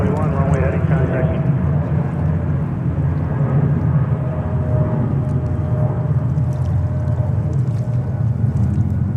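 A JetBlue Airbus A320 takes off from runway 22 at JFK airport, producing a loud, sustained jet roar with a high engine whine on top, continuous and close throughout.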